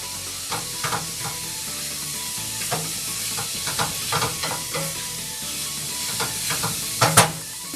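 Chopped garlic sizzles in a pan for a quick mushroom pasta, a steady frying hiss broken by soft stirring scrapes and occasional louder spits.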